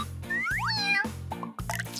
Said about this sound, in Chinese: 哇哦，小猫。